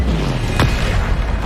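A Bombarda spell explosion in the Hogwarts Legacy video game lands as a single heavy boom midway through a loud, dense wash of game noise and rumble.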